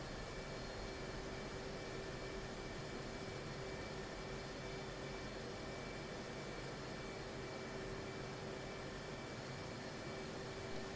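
Steady jet engine whine and broadband rush from an aircraft taxiing onto the runway in the DCS flight simulator game, a constant even drone with a held tone and no speech.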